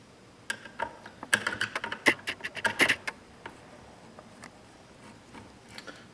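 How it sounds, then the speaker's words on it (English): Four small screws being backed out of a replacement display screen on an ST-210 unit give a scattered run of light, close ticks and clicks, busiest in the middle, then fading to faint taps. "And to remove it, there's 4 screws."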